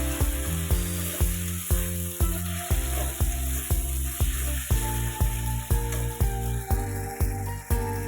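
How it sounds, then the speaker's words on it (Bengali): Spices with chilli powder and salt fry and get stirred in a pan, giving a steady sizzle beneath a strongly rhythmic, tonal musical backing that pulses throughout. "সব মশলাগুলো ভালোভাবে একদম কষে নিতে হবে"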